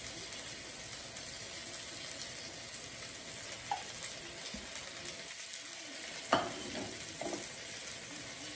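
A pat of butter sizzling in the side of a frying pan while honey garlic chicken cooks, a quiet steady hiss with a few small clinks and a sharper knock near the end; no talking.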